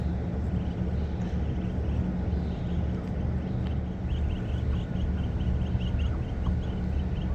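Ducks with ducklings out on grass give a run of soft repeated quacks at a middle distance over a steady outdoor background hum.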